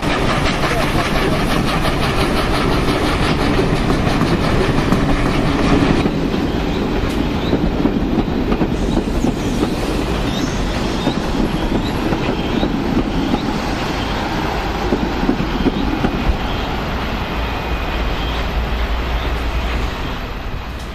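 A train rolls past on the rails, with loud continuous rumbling and a rhythmic clickety-clack of the wheels sustained for about twenty seconds, plus a few higher metallic squeals over the roar.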